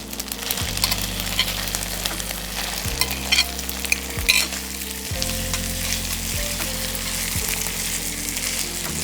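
Raw chicken pieces sauté lightly in a hot pan for a restaurant-style murg chatniwale, with a steady close sizzle and repeated stirring scrapes throughout, no voices.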